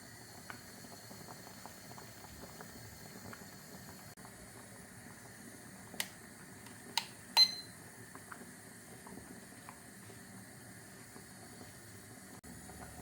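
Spaghetti cooking in a pot of boiling water, a soft steady bubbling hiss that carries on throughout, broken by a few sharp clicks or knocks partway through.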